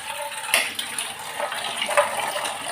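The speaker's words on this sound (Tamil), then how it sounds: "அதுக்காக நம்ம தண்ணி ஊற்றிடுவோம்." Water is poured into a cooking pot for a bottle gourd and cowpea rice dish, a soft, splashy, continuous trickle with a few brief spatters, fairly close and moderately quiet.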